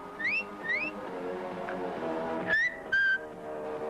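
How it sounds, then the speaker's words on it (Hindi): An owl whistling in a scene from the 1987 Hindi film Parakh: a few short rising whistled notes, clear and close, in quick pairs over a steady musical background. "उल्लू सीटी बजाने लगा।"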